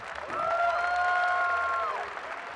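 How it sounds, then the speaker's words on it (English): Crowd applause at the Arnold Strongman Classic 2019, a moderate, continuous wash of clapping and some cheering with a sustained tonal hum layered on top throughout. "give them one more round of applause."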